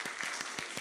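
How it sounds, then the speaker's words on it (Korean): A brief burst of steady applause from a church congregation at a Sunday service, many hands clapping together in a quick, even rhythm. "박수로 한번 환영해 주시기 바랍니다."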